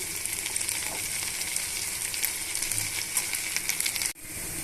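Curry leaves and tempering in a pan give a steady, close frying sizzle with faint stirring scrapes, cutting off abruptly near the end.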